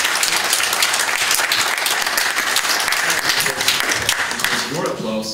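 Audience applause at an international press conference, a loud, dense round of clapping from a large room that holds steady and begins to thin near the end as a voice starts speaking.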